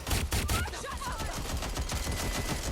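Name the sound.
covering gunfire in the video game Watch Dogs Legion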